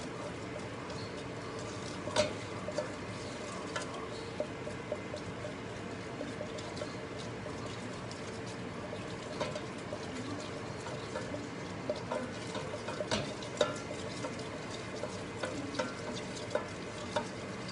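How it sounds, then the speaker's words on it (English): Cream cheese melting and being stirred in a hot pan between medium and high heat, a faint steady sizzle with occasional scraping clicks of the utensil, continuous and quiet with no talking. "If you keep it like medium, between medium and high, the cream cheese will melt faster."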